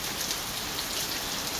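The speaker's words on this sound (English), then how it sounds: "It's gonna be a rainy Friday here in Baton Rouge." Heavy rain falls on a rainy Friday in Baton Rouge, an even dense hiss of drops on surfaces, steady and continuous with no voices.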